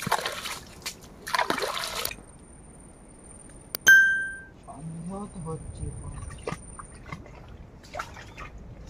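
Water trickling and splashing out of a crab hole being dug in the muddy Sundarbans forest, with brief wet spurts and dribbles close by, mixed with sharp scraping noises and people talking nearby.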